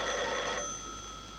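An old telephone bell rings in a 1951 German film scene, a bright metallic trill that sounds for about half a second, then cuts off and leaves a fading, ringing tone.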